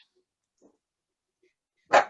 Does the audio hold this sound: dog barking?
yes